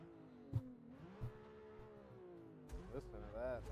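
A car engine in a racing video game revs and drones with a rising, wavering pitch, climbing sharply near the end, while someone talks over it.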